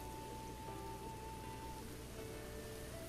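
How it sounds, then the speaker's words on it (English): Steady rain pattering across the ground in The Legend of Zelda, a constant dense hiss at even loudness throughout, with faint musical tones from the game sounding over it. "And it's raining."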